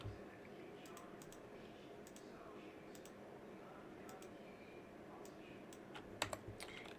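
Computer keyboard typing, a quiet series of quick, irregular key clicks in short bursts, with a couple of sharper taps near the end and low room noise underneath.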